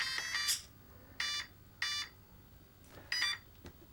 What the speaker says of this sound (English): Then you get the beeps to say it's ready.